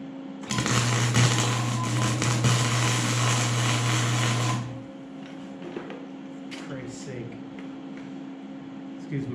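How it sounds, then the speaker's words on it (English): Welding on an ATV log skidding arch gives a loud, steady buzzing crackle for about four seconds, then stops, leaving a low hum. "now I'm welding probably a good ½ inch below where I thought"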